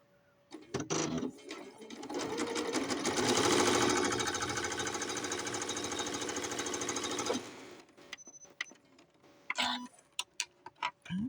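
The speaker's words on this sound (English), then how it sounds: "I'm over at the sewing machine." A sewing machine hems a lace skirt for a Rainbow High doll, running in one steady, rapid mechanical burst of about six seconds, close and fairly loud, then stopping amid small handling clicks and taps.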